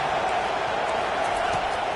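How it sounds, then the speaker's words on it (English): A stadium crowd roars at a college football game, a steady dense wall of cheering and noise building as fans rally behind the defense on third down, loud and continuous throughout. "Decibels rising as the crowd gets behind this defense on 3rd down."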